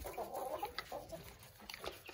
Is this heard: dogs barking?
no